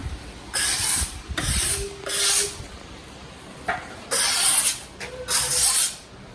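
A tool scrapes excess filler off a concrete worktop in a series of rough, close strokes. Each rasping pass lasts about a second, with brief pauses between them.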